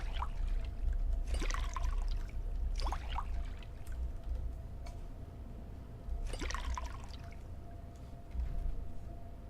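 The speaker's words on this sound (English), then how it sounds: "I can fill those all with dirty water" In Fallout 4, beer bottles are filled with dirty water: soft pouring and trickling splashes in a few short bursts over a constant low background rumble.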